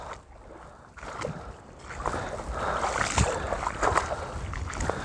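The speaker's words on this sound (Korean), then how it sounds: "바람 세고" Strong, gusty wind buffets the microphone at a rocky seashore on a cold night, a steady roaring rush that builds and swells with rough, noisy blasts.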